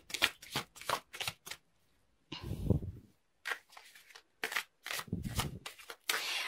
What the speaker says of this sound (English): So let's pull a few more cards to see additional messages.